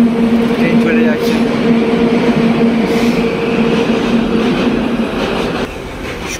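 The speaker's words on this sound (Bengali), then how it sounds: "দেখে নাও, ট্রেন চলে যাচ্ছে।" A train rolls past at Khirai railway station with a loud, continuous rumble and rattling wagons, close by throughout, while a voice is heard at times under the noise.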